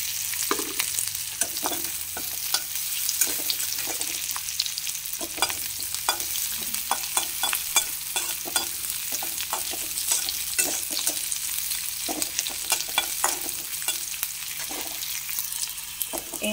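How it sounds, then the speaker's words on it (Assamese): Chopped onion and a bay leaf fry in oil in a pan, a continuous close sizzle punctuated by regular sharp scrapes and taps of the stirring spoon, with no talking. "এতিয়া এনেদৰে ভাজি লওঁ এইখিনি"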